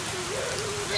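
Rain falls steadily outdoors as a small child plays in it, a broad continuous patter with a faint voice-like tone running underneath and a slight swell at the end.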